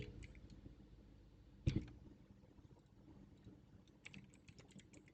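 Python code being typed on a computer keyboard, with irregular soft key taps and one louder thump partway through, fairly quiet and close with no talking over it.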